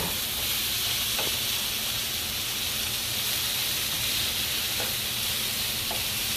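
Potatoes and onions fry in a pan with a steady, dense sizzle and hiss that runs unbroken throughout, close and even, with a few faint clicks from stirring.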